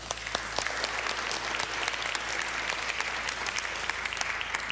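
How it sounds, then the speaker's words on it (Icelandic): A church congregation claps for a solo singer after a hymn during an Icelandic Sunday service, an even, sustained patter of many hands over a low hum, moderately distant and continuing throughout. "við skulum gefa henni gott klapp"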